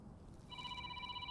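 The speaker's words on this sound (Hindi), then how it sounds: "मेरे बेटे का फोन है।" A mobile phone starts ringing partway through with a steady electronic ringtone, faint and slightly distant over low background noise.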